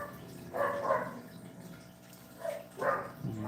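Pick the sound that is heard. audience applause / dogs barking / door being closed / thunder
dogs barking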